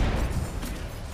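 Grenade going off in a video game: a short, muffled boom with low rumble, fairly faint and distant-sounding, fading quickly.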